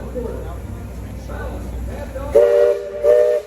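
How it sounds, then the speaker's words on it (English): Two long blasts of the Liberty Belle riverboat's steam whistle, the second shortly after the first, sounding over ongoing background rumble and crowd noise. "There's going to be two whistles here in a second."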